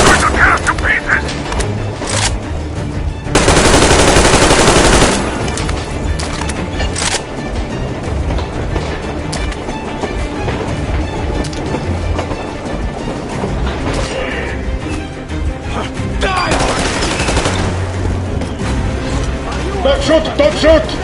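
Gunfire in the video game Metro Exodus: dense rattling shots and booming bursts through a chaotic firefight, with a loud sustained blast early on and in-game voices shouting over the din.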